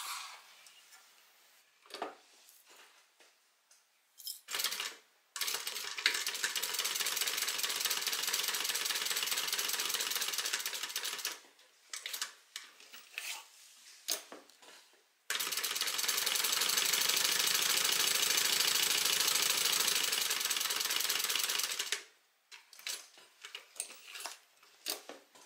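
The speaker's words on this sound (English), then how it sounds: "from here we're going to stitch down, across, and up" Electric sewing machine stitching a pocket onto fabric, running in two long steady bursts of fast, loud mechanical whirring, with short pauses and small clicks and fabric handling between them.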